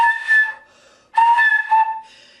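A flute overblown with too much air gives a harsh, breathy whistling tone in two loud bursts, each with a sustained shrill pitch and airy hiss, and a brief pause between them.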